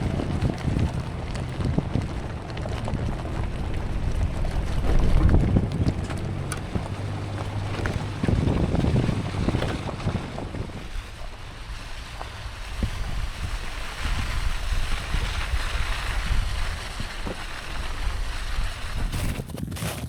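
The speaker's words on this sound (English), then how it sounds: "Definitely the wind is hitting this one a little bit more." Steady wind gusting across an exposed camping spot on the Oregon Coast, a continuous broadband rush with buffeting on the microphone, surging louder early on and then settling into a constant roar with no voices.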